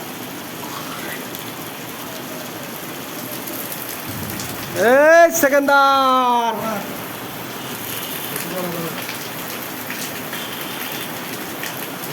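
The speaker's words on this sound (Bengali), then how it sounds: "বৃষ্টি হচ্ছে" Continuous rain pattering on a surface, a steady hiss throughout, with a person briefly speaking midway.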